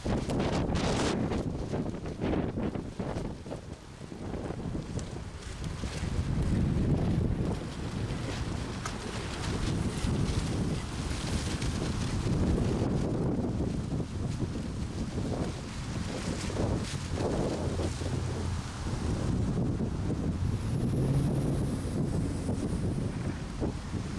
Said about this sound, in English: We have the windiest day we've tried yet.